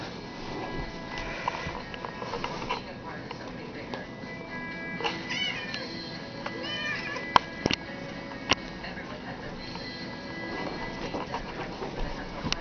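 A cat meows now and then while getting a back rub indoors, with steady household noise and scattered clicks and bumps throughout.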